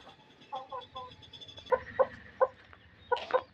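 A hen clucks in short, soft bursts close by, the clucks growing sharper and more insistent in a loose, uneven rhythm over a quiet background.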